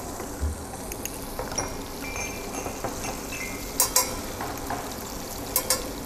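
Tomato paste cooks and is stirred in a pan for Veracruz-style fish, with a steady low sizzle and frying hiss under a few soft scrapes and clinks of a utensil against the pan, no talking.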